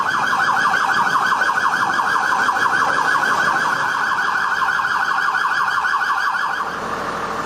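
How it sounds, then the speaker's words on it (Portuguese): An ambulance siren wails loud and close as it passes through streets blocked by tons of rock and mud after a landslide, its steady warbling cycle repeating throughout and easing off slightly at the end. "A ambulância passando, socorrendo um ferido."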